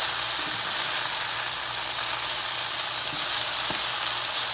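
Food browning in a pan for a big Southern Sunday supper gives a steady, close sizzle, with a few soft stirring knocks along the way.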